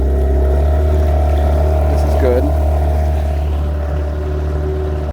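A Yamaha 15 horsepower outboard motor drones steadily and loudly as the throttle is eased up, holding a strong continuous hum from start to finish with a brief voice speaking over it.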